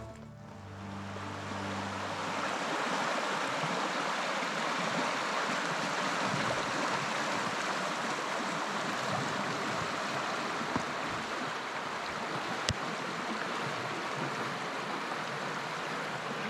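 The Suomujoki river in Urho Kekkonen National Park rushes steadily with a broad, continuous wash of flowing water, close and constant for the whole stretch.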